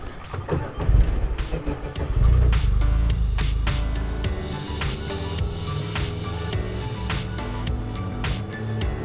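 A car driving out to a back field, its engine humming steadily and fairly loud throughout, with a low rumble and some wind buffeting.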